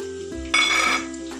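Chopped onions hit a hot pan for a banana curry gravy, setting off a sudden bright sizzle with a clink of metal, then settling into a lower steady fry.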